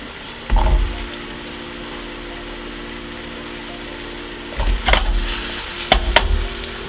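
Potatoes hitting hot olive oil in a pan, with a loud sizzling burst at the start, a steady low fry, then renewed crackling and stirring scrapes near the end.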